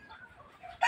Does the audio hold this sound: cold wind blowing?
no